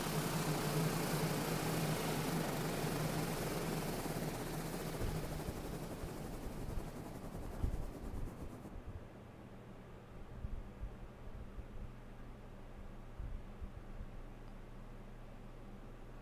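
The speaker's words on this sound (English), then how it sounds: "Check out the propeller." Propeller engine of a TBM 850 turboprop in a flight simulator, a steady loud broadband roar and hum that drops to a lower, quieter drone partway through, alone with no talk.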